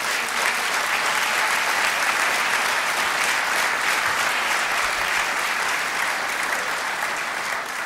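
Sustained applause from a large audience at the Black Engineer of the Year awards event, a dense, steady wash of clapping that stays loud and even from start to finish with no talk over it.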